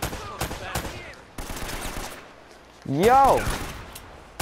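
Gunfire in the video game Uncharted: Drake's Fortune, several sharp shotgun-like blasts and rapid shots under a player's excited voice, with a loud exclamation and rising in-game sounds midway.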